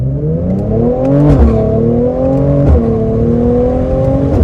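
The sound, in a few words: sports car engine revving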